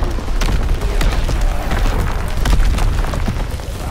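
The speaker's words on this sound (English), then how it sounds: "Incoming enemy artillery." Enemy artillery shells burst in a dense barrage across the Ardennes Forest in Call of Duty: WWII, loud and rumbling, with overlapping booms and crackling debris throughout.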